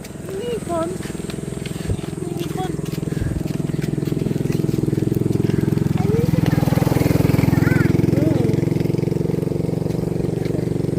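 A motorcycle engine drones steadily nearby on an outdoor path, a continuous low rumble that swells slightly toward the middle, with people talking over it throughout.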